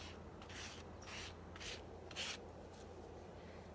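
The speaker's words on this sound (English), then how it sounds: "just kind of scrape a little bit of gesso on the page" Envelope edge scraping gesso across a paper page, a few faint, close, dry rasping strokes in a loose rhythm, quiet and heard alone.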